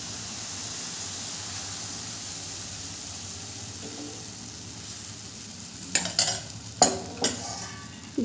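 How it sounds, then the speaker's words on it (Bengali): Appam batter cooks in a kadai with a soft, steady hiss, then a few quick metallic clinks and scrapes of a ladle come near the end, close and quiet. "আবারও আমি এক হাতা আপ্পামের ব্যাটার দিয়ে দেবো কড়াইতে।"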